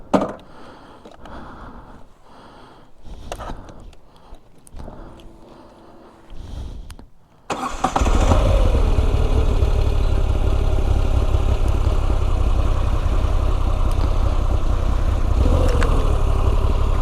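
A Moto Guzzi V85 TT V-twin motorcycle starts after several seconds of quiet shuffling and handling sounds, then settles into a loud, steady, close idle with a deep throb that runs to the end.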